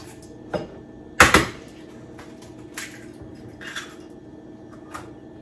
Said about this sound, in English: I'm just going to start by cracking a couple of eggs into a bowl.